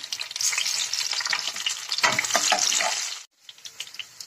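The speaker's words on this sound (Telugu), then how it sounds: "క్యాప్సికమ్ ముక్కల్ని కూడా ఇలా క్యూబ్ టైప్ లో కట్ చేసుకుని అవి కూడా క్యూబ్స్ లాగానే కొంచెం సేపు ఒక రెండు నిమిషం అలా వేయించుకోవాలి" Cubed capsicum frying in a pan, a dense close sizzle with stirring scrapes that cuts off briefly, then resumes with softer crackles.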